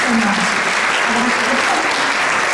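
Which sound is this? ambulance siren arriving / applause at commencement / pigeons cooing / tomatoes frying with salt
applause at commencement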